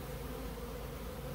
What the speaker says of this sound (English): there are bees at the entrance, fanning their wings, saying this is where the queen is